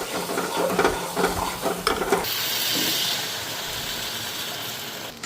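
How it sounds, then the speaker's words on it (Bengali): Water poured into a pan of spices frying for an egg curry, giving a loud, steady hissing sizzle that swells midway and holds, after a few clattering stirs at the start. "তো ওইদিকে মশলাও ভাজা হয়ে গেছে, এখন জল দিয়ে দিই।"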